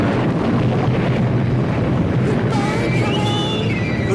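Rocket ignition and launch: a continuous broadband roar that holds steady and thickens toward the end, with some rising tonal whine layered on top.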